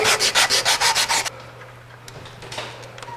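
Rapid rhythmic sanding strokes rasp against a wooden hollow form, about a dozen even back-and-forth passes, then quieter scattered scraping and light handling noises.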